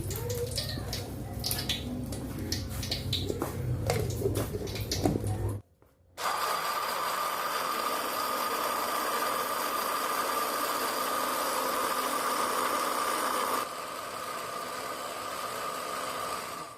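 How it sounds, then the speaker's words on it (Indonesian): Kitchen blender grinding a spice paste of peanuts, red chili, shallots, garlic, kencur and lime leaves with a little water, a loud steady whirring motor run that cuts out briefly and restarts, preceded by handling noise. "Bumbu-bumbune dilebokno blender, guys."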